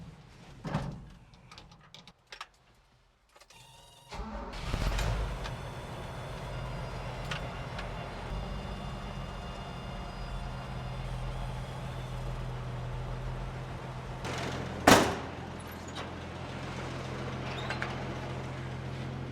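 A Toyota FJ45 engine cranks and catches after a few scattered clunks, then settles into a steady low rumbling idle, close by, with a brief sharp burst near the end.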